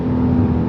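A 2025 Porsche 911 Turbo S launches under launch control, heard from inside the cabin as a loud, dense engine roar and whir in a brief, steady burst.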